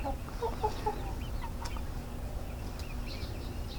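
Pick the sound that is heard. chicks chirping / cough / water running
chicks chirping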